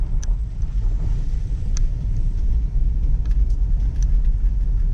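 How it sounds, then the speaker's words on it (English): A Tesla Model 3 fitted with mud flaps rolls through a puddle, giving a steady low road rumble and watery wash, with faint splashes and ticks over the continuous tire noise. "we hit a puddle, and that definitely would have kicked some up"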